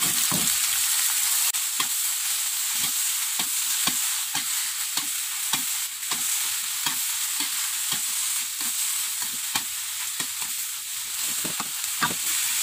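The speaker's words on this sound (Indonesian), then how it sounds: "Sekarang kita aduk." Fried long beans get stirred in a hot pan, a constant loud sizzle broken by a steady series of sharp scrapes and clacks from the spatula, with no talking.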